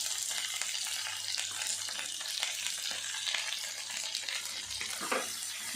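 Dondakaya fry with salt and chili powder sizzles in a pan while being stirred, a constant crackling hiss with scattered scraping strokes and a louder stir near the end.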